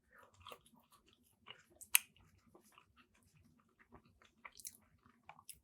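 Close, soft chewing of a thick sandwich with crispy bits, quiet moist crunches and squishes in an irregular rhythm, with no talking.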